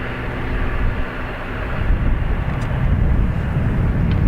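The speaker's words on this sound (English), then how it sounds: "This ATR is off to Glasgow" An ATR turboprop airliner departs Dublin Airport with a steady, loud, low engine roar that swells slightly as it continues, with no voices.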